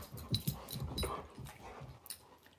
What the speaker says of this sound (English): That's the dogs.